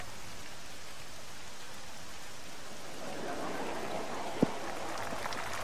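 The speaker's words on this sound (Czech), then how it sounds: "prší jako prase" Steady rain falling in the golf game Tiger Woods PGA Tour 14, a dense even hiss of drops throughout that swells slightly toward the end, with one sharp brief click partway through.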